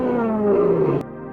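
A lion's roar, a single loud, sustained growling bellow about a second long that cuts off abruptly, heard alone with no speech.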